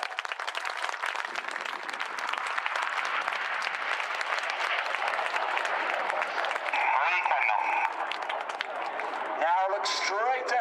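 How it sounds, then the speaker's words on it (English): Airshow crowd at RIAT Fairford 2016 applauding the Red Arrows synchro pair: dense, steady applause fills the whole stretch, with a public-address voice and a brief rising whine toward the end. "let's have a huge round of applause for the synchro pair!"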